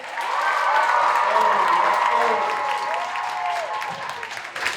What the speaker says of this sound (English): give all the performers another round of applause